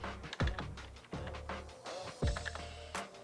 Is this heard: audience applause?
no